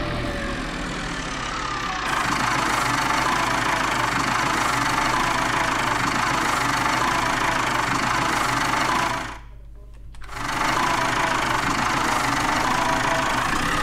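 Engine of an IMT 577 deluxe tractor with dual-wheel drive in Farming Simulator 19, a loud, steady idling rumble with a knocking pulse, briefly cutting out and dipping near the end before resuming, no voices.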